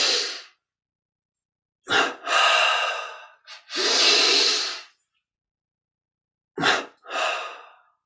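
Breath sounds from a Kriya Yoga breathing exercise: audible breaths through the nose, grouped as quick double inhalations followed by longer exhalations, close and alone with silence between, no talking.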